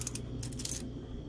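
Old, rusty Philippine one-peso coins dropping and clinking together, a few faint, bright metallic jingles in quick succession over a steady low background hum.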